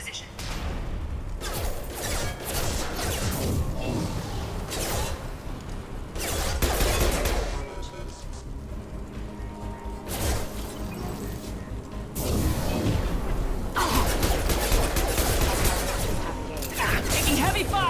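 Combat gunfire against security mechs in Mass Effect 2, dense bursts of rapid shots and crashing impacts coming in waves, with game voices speaking between and over the firing.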